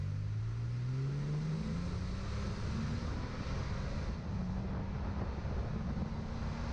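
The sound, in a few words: Toyota Tacoma pickup truck engine revving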